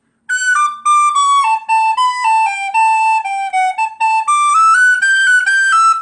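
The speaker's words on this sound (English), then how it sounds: "I know some of the beginner whistle players might struggle playing it faster." Tin whistle playing an Irish tune at a brisk tempo, clear bright notes in quick stepwise runs, loud and close, solo with no talk.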